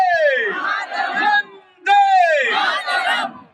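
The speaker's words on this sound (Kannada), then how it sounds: "ಒಂದ್ಸಲ ಜೋರಾಗೊಂದು ಭಾರತ್ ಮಾತೆಗೆ ಜೈಕಾರ ಕೊಡಿ" A large crowd at a Hindu Yugadi gathering in Yellapura roars a chant of Bharat Mata ki Jai in two long, loud bursts with a short gap between them.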